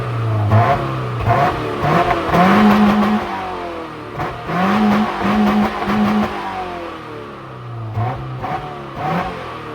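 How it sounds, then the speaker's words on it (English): A 2008 Subaru Forester's 2.5-litre EJ25 boxer engine fires up and is blipped several times, each rev swelling and falling back to a lumpy idle, loud and close with no talk. "we'll give it a start up and give it a little rev"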